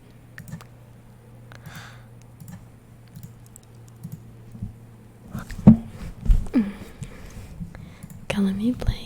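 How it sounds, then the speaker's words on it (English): Computer keyboard typing for a browser game comes as scattered soft key clicks, growing busier and louder toward the end, with quiet whispered speech in between. "It's a browser game where I use my keyboard, so I can do some keyboard noises."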